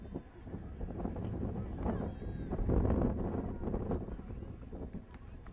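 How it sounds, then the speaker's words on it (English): Steady wind gusts rush across an outdoor girls' soccer field, buffeting the microphone with a continuous low roar that swells and fades, while flags whip on nearby tents. "Again, the wind picking up here."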